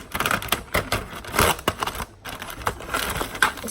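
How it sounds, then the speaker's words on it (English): Rapid crunchy snipping from kitchen scissors cutting through smoked bacon, several quick cuts in a row, close up with no talking. "So I get a good old pair of kitchen scissors."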